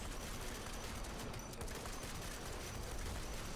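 Gunfire from the action video game Strange Brigade, a dense, continuous barrage of rapid shots and impacts filling the scene at steady loudness, with no pauses.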